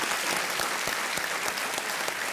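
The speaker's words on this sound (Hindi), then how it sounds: "धीरज पटेल जी के लिए एक बार तालियां बज जाएं।" The studio audience of the Indian game show Kaun Banega Crorepati breaks into loud, continuous applause for a contestant, a full, dense clapping sound filling the room without speech over it.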